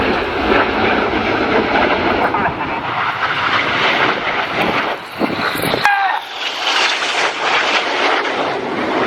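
Red Arrows jets trailing red, white and blue smoke roar past in a formation display at the Royal International Air Tattoo, a loud sustained jet rumble under commentary that swells and then drops away.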